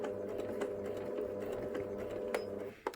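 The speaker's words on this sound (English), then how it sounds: "I'm going to sew from above the oval hole up to the neck seam here" A sewing machine stitches fabric for a bunny toy, a close, steady mechanical whirr with rapid needle ticking that runs for nearly three seconds before stopping, with a brief clunk at the end.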